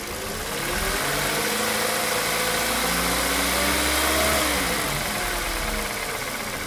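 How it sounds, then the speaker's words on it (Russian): A VW CFNA car engine for a 2011 Jetta runs at a raised, steady 2000 rpm, its hum swelling slightly before easing back, a continuous close rumble with no talking. "Работа двигателя на 2000 оборотов."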